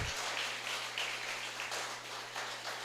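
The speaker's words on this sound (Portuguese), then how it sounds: "Se você quiser, você pode aplaudir ao Senhor, para a glória do Senhor" A church congregation at a Sunday evening service applauds steadily, a dense even wash of clapping from many hands over a low constant hum, with no talk over it.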